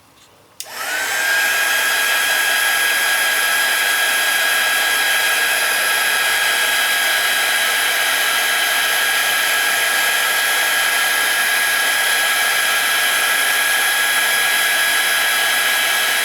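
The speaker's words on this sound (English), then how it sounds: "now I'm going to dry this a little bit, so sorry for the noise." A hair dryer drying craft paint switches on after a brief pause and runs steadily and loudly, with a constant whine throughout and no talking.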